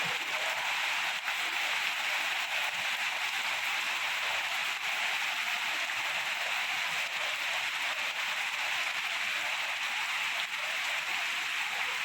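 Steady, dense hiss of rain falling on a surface, constant and even throughout, with no voices.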